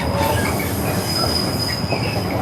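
A train rolls past close by near woodland, a steady loud rumble of rail wagons with a thin high wheel squeal running throughout, no talking.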